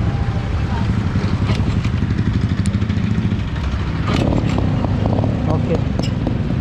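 A modified heavy-duty TVS XL moped with a 70cc engine cranks and runs with a loud, close, steady putter and clatter. A person speaks over the engine.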